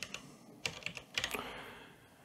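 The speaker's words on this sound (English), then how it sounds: "I'm just going to type in light." Quick bursts of typing on a computer keyboard, close and fairly quiet, with a few clustered keystrokes and short pauses between them.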